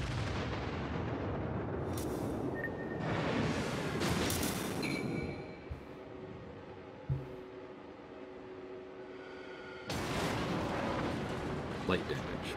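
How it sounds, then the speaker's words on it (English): Battleship secondary battery guns in World of Warships, booming bursts of firing under a constant roar of engine and sea, with a quieter stretch in the middle and a final loud rumble near the end. "That was my secondary battery that destroyed him."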